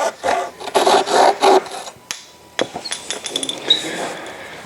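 A hacksaw cutting through the shaft of a fixed-length SUP paddle, with rhythmic close rasping strokes at first, then scattered lighter scrapes and clicks as the cut finishes.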